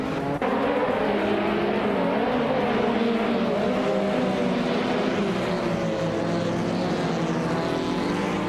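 Race cars speeding by in a nonstop race, a dense, loud engine drone with shifting pitch that holds steady throughout, no talk heard.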